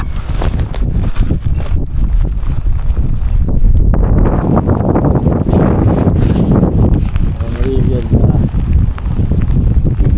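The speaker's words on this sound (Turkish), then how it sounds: "Rüzgar gelmeydi, iyiydi de." Strong wind buffets the microphone in a constant loud rumble while pike fishing, with faint voices and movement underneath.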